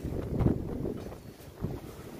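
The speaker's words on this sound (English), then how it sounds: "I mean, wind, stop it." Strong storm wind buffets the microphone in low, rumbling gusts that swell and ease over a couple of seconds, fairly quiet overall, with no talking.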